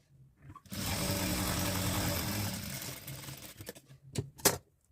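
A sewing machine stitches fabric in a single continuous run of rapid, even needle chatter for about two seconds, close by, followed by a few soft clicks and handling sounds as the cloth is adjusted.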